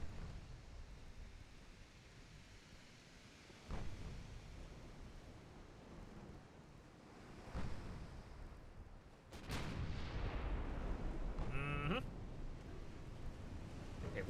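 Naval gunfire in Ultimate Admiral Dreadnoughts as warships shoot at pursuing destroyers: a few sharp booms spaced several seconds apart over a steady ocean and wind wash, the last shot a louder close blast with a ringing tail.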